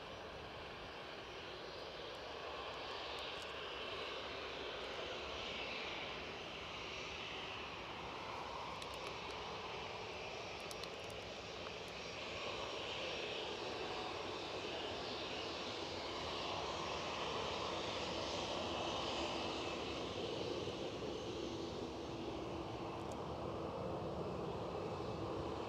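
A KLM airliner's engines roar steadily at Newcastle International Airport, a broad, distant rumble that swells slowly over about 25 seconds with no voices.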